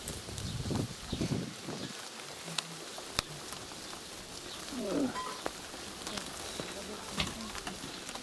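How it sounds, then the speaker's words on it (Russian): Rain falling outdoors at a children's camp, a faint, steady patter with a few sharper drops, no one talking. "Ну дождик, конечно."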